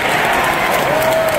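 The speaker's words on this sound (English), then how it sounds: "Everyone's cheering on the Duke game." Crowd cheering and clapping at a Duke basketball game fills the arena in a dense, steady roar, loud and continuous throughout, with a faint whistle-like tone rising over the noise.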